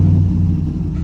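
Truck engine with a sloppy stage 2 cam and Pack 1218 springs on a stock torque converter, a deep, loud, lumpy idle rumble heard up close and without pause.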